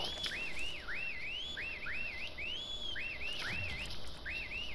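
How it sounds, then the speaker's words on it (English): Someone whistles in the online shooter CRSED, a repeated rising-and-falling melodic whistle in short phrases, moderately loud over a low game background. "Who's whistling?"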